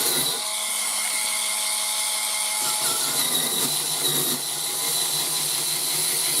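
A cordless electric spinning scrubber whirs steadily against a surface coated in degreaser, a continuous motor hum with scrubbing noise that runs throughout at close range.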